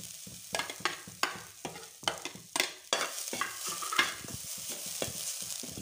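Grated coconut roasting in a hot kadhai for Odisha kakara pitha stuffing, with repeated rhythmic scraping stirs of a spatula over a light dry sizzle, close and clear.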